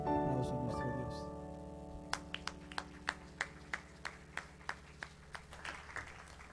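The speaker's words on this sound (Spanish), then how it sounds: "Aplauso a nuestro Dios." A church congregation claps in a steady rhythm, about a dozen evenly spaced claps over sustained organ or keyboard chords, the music prominent and the claps moderately loud.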